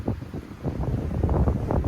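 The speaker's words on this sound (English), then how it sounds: "The wind is really picking up." Strong wind during a Canadian snowstorm roars in low, uneven gusts that swell toward the end, with no voices.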